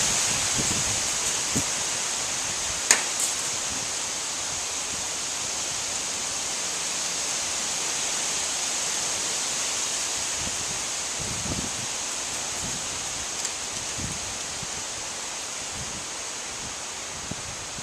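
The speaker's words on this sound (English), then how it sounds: "It's getting very windy." Strong wind blowing outdoors, a steady broad hiss with soft buffeting gusts across the whole stretch, plus a few brief knocks and rustles.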